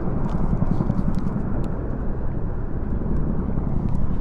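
Chinook helicopters pass overhead in a jubilee flypast, their rotor blades making a loud, steady, low throbbing roar that fills the whole stretch without a break.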